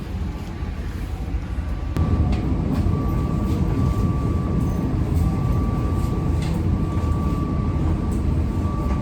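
Steady rumbling drone of a CC 20-series diesel locomotive hauling the Menoreh train in Indonesia, heard from close by with a faint constant whine and occasional rattles.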